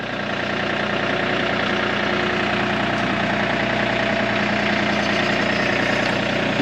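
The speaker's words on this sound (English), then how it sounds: "We're going to use this guy to move it around. The old tractor with the trusty pallet forks." An old tractor fitted with pallet forks runs steadily at close range, its engine chugging at an even idle for the whole stretch with no voices over it.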